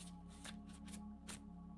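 Tarot cards being shuffled in quick, close riffles, several soft bursts in a row over a steady low hum, with no talk.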